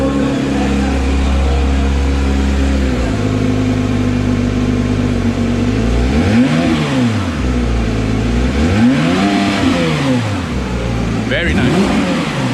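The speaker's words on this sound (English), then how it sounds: "Tana, can you do us the honor of revving" A Porsche 911 Speedster with a 510 bhp engine revs hard several times in close succession, each throttle blip rising and falling loudly over a steady idle, with people talking nearby.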